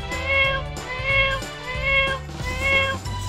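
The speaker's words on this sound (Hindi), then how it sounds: "अम्मी ऐसे बिल्ली को नहीं प्यार करते हैं।" A cat meows several times in a row, close and clear, each cry a drawn-out wavering call with brief gaps between, with no talking over it.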